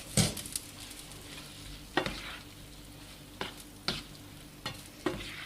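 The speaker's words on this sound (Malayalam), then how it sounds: "അതിലേക്ക് ഞാൻ പാസ്ത ഇടുകയാണ്. പാസ്ത ഇട്ടിട്ട് നമുക്കൊന്ന് ടോസ് ചെയ്തെടുക്കണം." Pasta tossed in hot cream sauce in a pan gives a soft continuous sizzle, punctuated by about six sharp clattering scrapes spaced roughly a second apart, close by.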